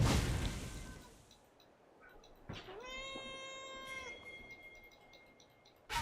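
A cat gives one drawn-out, rising-then-falling meow, clear and fairly close, preceded by a brief bump and set against a faint hissy background with no talking.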